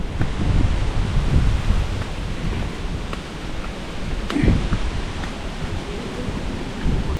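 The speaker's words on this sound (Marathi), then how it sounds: "वारा बघा किती आलाय तो" Strong wind gusts through an outdoor market area before rain, a loud rumbling buffet that swells and eases over the microphone, with no speech.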